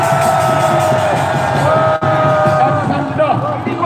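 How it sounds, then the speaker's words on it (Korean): A street rally crowd in front of the Sejong Center at Gwanghwamun roars with sustained cheering and shouting, a dense loud wash of voices throughout, with a brief dip midway. "큰 함성 마음 보내줍시다"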